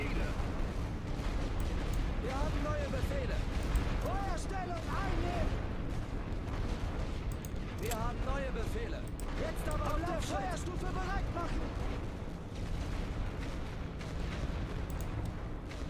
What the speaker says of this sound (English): light artillery is ready. Let's suppress.